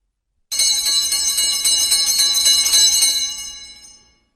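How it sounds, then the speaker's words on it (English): An electric school bell rings loudly and continuously for a few seconds, a bright metallic clang that stops abruptly and trails off. "the school bell is ringing"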